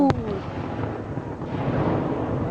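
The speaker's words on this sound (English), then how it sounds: "I think the fireworks have started." Fourth of July fireworks detonate outdoors with a sharp near boom at the start, then a long rolling rumble echoing off nearby trees, heard with no talk.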